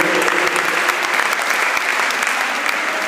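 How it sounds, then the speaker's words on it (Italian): A crowd loudly applauds the Lorena volleyball team for taking first place, with sustained, dense clapping and scattered individual claps standing out close by. "Un applauso per il primo posto della pallavolo Lorena."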